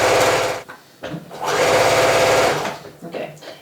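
A sewing machine stitches straight through a fabric corner in quick rapid bursts, loud and close, with a short pause between runs.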